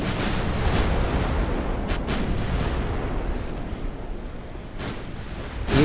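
Naval gunfire striking a ship in an 1890s-era battle in Ultimate Admiral: Dreadnoughts, a continuous dense rumble of distant artillery with a few sharp cracks breaking through.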